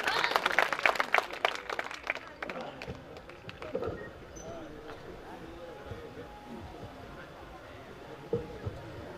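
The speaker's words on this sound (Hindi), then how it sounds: "एक बार जोरदार ताली बजाइए।" Applause from an audience at a Hindi kavi sammelan poetry recital held at a school, loud clapping at first that thins out within a few seconds, leaving murmurs and scattered claps.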